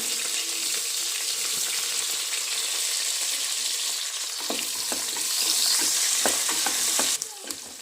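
Chopped onion with green chilli fries in oil in a pan, giving a steady close sizzle with bursts of spoon-stirring clatter and scraping toward the end.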